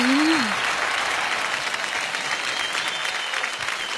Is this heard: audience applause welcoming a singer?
yes